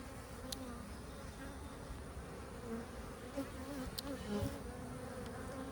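Honeybees in an open hive give off a steady, low, dense buzz throughout. Brief higher tones rise now and then as individual bees fly close.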